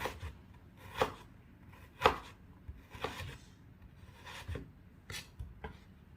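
A knife slicing ginger lengthwise on a board, with about half a dozen sharp, separate cuts at an uneven pace, close and clear with no voices.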